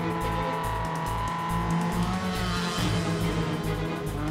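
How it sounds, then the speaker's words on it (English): A dune buggy spins its wheels in the desert, a loud, continuous engine drone and whirring grind with steady pulsing, close up and with no talk. "But then Rob starts spinning his wheels"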